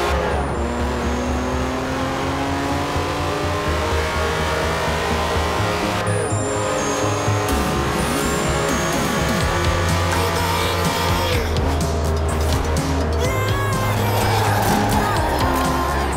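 A Lamborghini Countach races in Forza Horizon 4, its engine roaring loud and steady throughout, rising and shifting through gears, with tire squeals, skids and passing bursts layered over the continuous drone.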